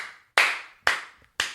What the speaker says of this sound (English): What's that clap for?